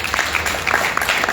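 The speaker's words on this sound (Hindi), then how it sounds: "ये तालियां रुकनी नहीं चाहिए।" Applause at an award ceremony for leading ladies, sustained clapping from an audience.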